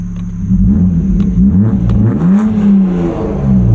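A 1995 BMW E36 325i's 2.5-liter M50B25 inline-six engine starts, idles and revs up and down, a steady loud hum with a couple of rising throttle blips.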